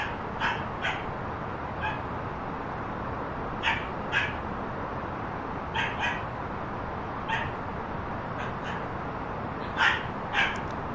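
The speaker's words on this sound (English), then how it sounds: "The doggy's back." A dog barking in short, spaced pairs of barks at moderate distance over a loud, constant engine drone, repeating irregularly throughout.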